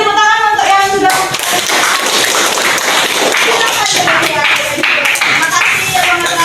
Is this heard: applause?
yes